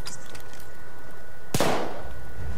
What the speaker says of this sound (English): Artillery? That sounds good.